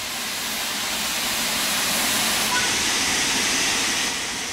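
A steam locomotive in the Train Sim World 3 video game gives off a loud, steady, broad hiss of steam that holds continuously throughout, with no clear chuffing beats.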